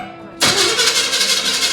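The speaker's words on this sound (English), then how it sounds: "Fire it back up again." A 1955 Chevy 210 engine cranks and fires, quiet background giving way to an abrupt loud catch that settles into a steady rumbling idle, close by.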